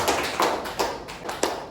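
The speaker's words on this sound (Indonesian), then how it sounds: "Tepuk tangan dulu dong" A few rhythmic hand claps in a classroom-style gathering, roughly five distinct claps spaced evenly and close by, sounding sparse rather than like a full crowd.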